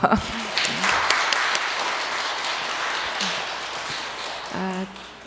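Applause at a parish Advent lecture for a priest, a crowd clapping in a steady wash that lasts about five seconds, with brief bits of voice over and after it.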